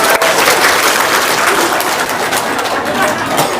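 An audience claps together in a steady, dense burst of applause that holds close and fairly loud from start to finish, with no voices rising above it.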